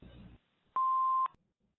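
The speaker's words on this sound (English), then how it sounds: "Please leave your name and phone number after the beep." A single steady electronic answering machine beep, clear and moderately loud, lasting about half a second after a brief stretch of muffled sound, then silence.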